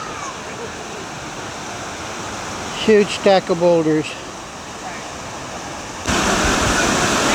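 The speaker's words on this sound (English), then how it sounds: "Here's another set of rapids as it goes over that little bit of a waterfall there, mainly just going in and around the boulders." River rapids pour over a small waterfall among huge boulders in the canyon at Castor River Shut-Ins near Fredericktown, Missouri, a steady close rush of water with a brief voice speaking midway, swelling louder near the end.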